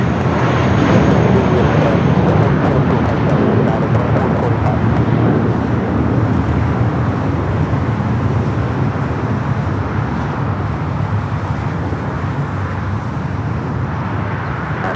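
An old America West Airbus A320 at LAX, a loud, steady, broad jet roar throughout with wind buffeting the microphone, fading slightly toward the end.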